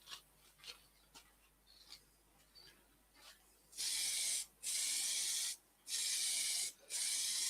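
Soft rubbing and tapping on scrap wood, then four loud hissing bursts as cellulose sanding sealer is sprayed close by, each separated by short pauses.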